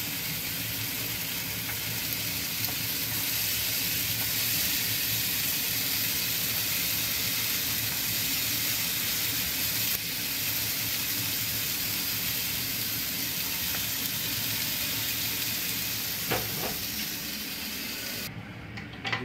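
A steady, loud sizzling hiss of apples frying in a hot pan, unbroken throughout and heard alone.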